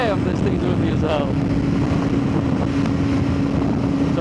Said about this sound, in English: this wind, guys, it's like 30 mile an hour wind gusts